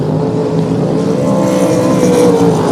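A loud, steady roar of a faulty sprint racing boat engine droning continuously without pause at the Long Beach Sprint Nationals, no voices present.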